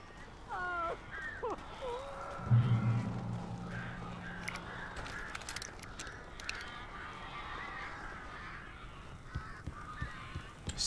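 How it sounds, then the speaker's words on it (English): Harsh cawing birds in the video game Alan Wake, a few squawking calls near the start followed by a low honking burst, then a sustained noisy wash with scattered sharp sounds. "These birds are weird."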